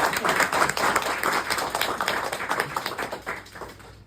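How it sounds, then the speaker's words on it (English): Clapping from a Toastmasters club audience in New Delhi, a lively round of many hands with distinct individual claps, fairly close and sustained before tapering off near the end. "give a big round of applause to this club"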